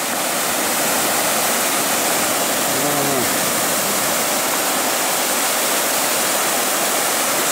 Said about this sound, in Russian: Вот она какая нехорошая река.